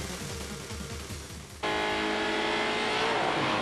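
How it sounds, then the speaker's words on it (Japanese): Subaru Impreza doing a hard launch start, engine roaring at high revs, then a sudden jump to a louder, steady full-throttle drive with dense engine harmonics, close and loud with no talk. "インプレッサーロケットスタート。"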